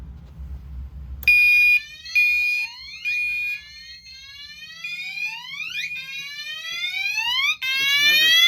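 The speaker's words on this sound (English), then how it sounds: "So, when you activate the fire alarm," A loud electronic fire alarm from Gentex Commander devices sounds in repeated bursts, then shifts into a continuous whooping sweep that rises over and over.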